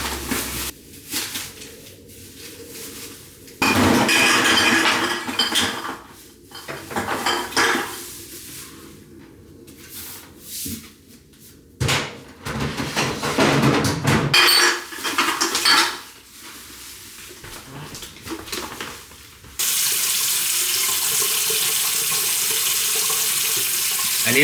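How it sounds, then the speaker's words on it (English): Dishes washed at a home kitchen sink: a tap runs in loud stretches between quieter gaps, with clinking plates, cutlery and scrubbing close by, ending in a long steady stream of water. "when you do the dishes"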